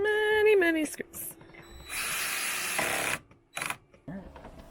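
A power driver sinks screws while a seat cushion is mounted inside a 2020 Winnebago Travato 59 camper van: several close, short whirring bursts, one winding down in pitch, separated by brief pauses.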